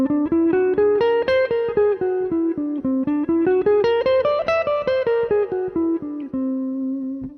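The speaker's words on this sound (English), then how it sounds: "the first scale that pops to my mind is the hexagonal scale, also called the whole tone scale." A whole tone scale beginning on C, played as clear, evenly spaced single notes that climb step by step and then descend back down, loud and alone with no talking.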